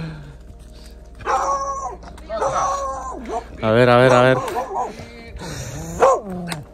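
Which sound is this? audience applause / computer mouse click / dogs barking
dogs barking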